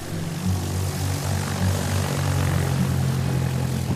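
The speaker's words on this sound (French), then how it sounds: "Son premier décollage." A light training airplane's propeller engine runs at Marignane air school before a student pilot's first takeoff, a steady, close, loud drone that swells slightly without pausing.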